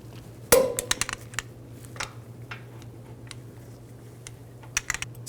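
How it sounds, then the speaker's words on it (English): A torque wrench tightens brake caliper bolts on a 2006-10 Mercury Mountaineer to 122 foot-pounds, giving one sharp, close metallic click followed by a scatter of lighter ticks and taps in an otherwise quiet garage. "I'm going to torque these bolts to 122 foot-pounds"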